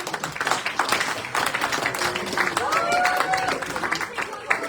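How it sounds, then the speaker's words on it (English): An audience at a school National Honor Society induction ceremony claps in a scattered round, with voices talking over the applause throughout. "One more round of applause for these gentlemen"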